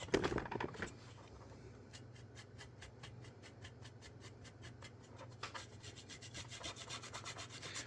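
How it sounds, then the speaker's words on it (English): A stiff brush dry brushing paint onto a cheap model railroad boxcar: faint, quick repeated scrubbing strokes in a steady rhythm, closer and stronger toward the end, after a brief louder knock at the start, no talk. "now I'm going to really brush it nice and hard"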